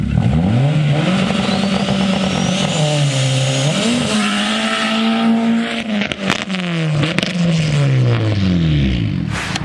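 A turbocharged Honda Civic wagon launches on dirt after a clutch kick: its engine roars loud and close, the pitch climbing, dipping and climbing again, with the strain of hard acceleration and brief bursts of tire scrabble.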